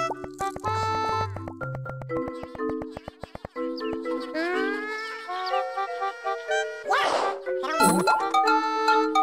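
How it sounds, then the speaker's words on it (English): Ringing chimes signalling a hidden heart nearby in Yoshi's Story for the Nintendo 64, bright bell-like dings over game music with quick repeated notes, followed by short chirpy character voices and bleating sounds. "Listen for ringing chimes when one is near."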